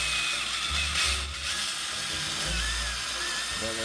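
A power drill whirs while boring into a hundred-year-old upright bass, a sustained high-pitched whine with low motor rumble, close and loud, with brief changes in pitch and no speech.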